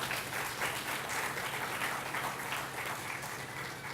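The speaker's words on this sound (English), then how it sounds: "Ladies and gentlemen, that deserves a wonderful applause." Audience applause at a housing distribution ceremony in Carina Gardens, Arima, a steady, moderately distant clapping from a crowd that holds evenly throughout.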